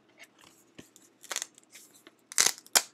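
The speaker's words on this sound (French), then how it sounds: "Et je vais enlever mon petit bout de papier." A small piece of backing paper is peeled off by hand during a craft project recycling die pouches, giving a few short crisp tearing and crinkling bursts, close and quiet, the last two louder.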